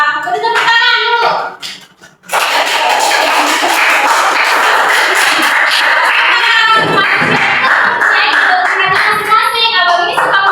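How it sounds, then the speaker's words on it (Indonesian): Classroom applause for a student at a school, a dense burst of clapping from many children that starts after a short pause and carries on steadily, with children's voices mixed in. "Beri tepuk tangan dulu."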